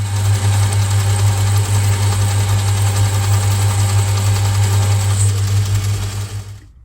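A Myford ML7 lathe turning a cut with the fine tumbler feed engaged, a steady loud motor hum with a rhythmic mechanical pulse, running alone before stopping abruptly at the end.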